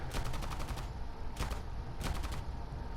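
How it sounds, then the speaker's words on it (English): Aircraft guns firing from a CR.32 biplane in War Thunder, three rapid bursts of sharp, rattling shots, the first longest, the others shorter, over a constant engine drone. "these guns will shoot that far"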